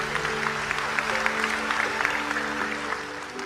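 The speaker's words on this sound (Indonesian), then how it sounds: "Tepuk tangan untuk beliau" An audience at an Islamic religious lecture by Gus Baha applauds, dense sustained clapping from a crowd lasting the whole stretch, with faint tonal background hum.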